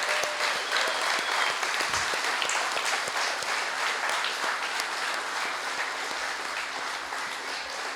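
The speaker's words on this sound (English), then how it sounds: "can we please give a round of applause to Peach Guitars and Diodario for having us all out?" An audience at a guitar clinic for Peach Guitars and D'Addario gives dense, sustained applause, a steady wash of clapping that fades slightly toward the end, with no talk over it.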